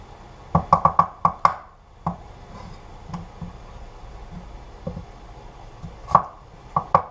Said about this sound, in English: So I can go through and dice these within a few minutes.